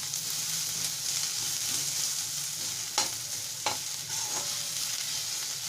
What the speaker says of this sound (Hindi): इसके साथ ही हम लहसुन मिर्च डाल लेंगे और इसे हम थोड़ा सा पिंकिश होने तक प्याज को भून लेंगे।